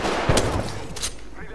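Mastiff shotgun fire in Apex Legends gameplay: a couple of sharp, close blasts within a second and a half, set against the game's dense background noise.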